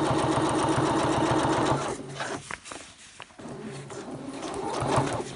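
A sewing machine stitches a seam on a softshell jacket, running in a steady rapid rhythm, pausing for about two seconds with a few clicks, then speeding up again. It is close and fairly loud.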